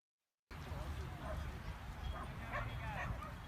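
A dog barks and yips with excited whimpers while running an agility course, repeated short calls over steady background rumble, with voices talking.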